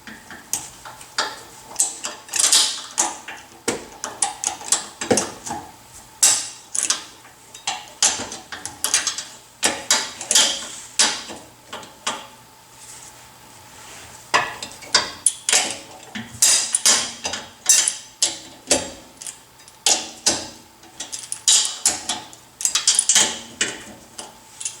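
Wrench ratcheting repeatedly on the rear hub bolts of a 2009 Toyota Corolla, with dense bursts of rapid metallic clicks and occasional clanks, close and fairly loud, and no talking.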